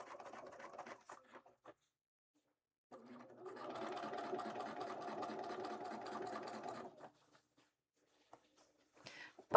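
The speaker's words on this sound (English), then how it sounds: "wind another bobbin" A home sewing machine winding a bobbin of thread, running steadily for about four seconds between quieter clicks and handling sounds, close and moderately loud.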